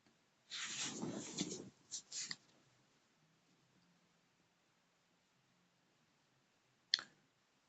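Computer mouse clicking while setting up ads in Meta Ads Manager, heard as a short burst of close, quiet clicks followed by two brief clicks and a lone click after a pause.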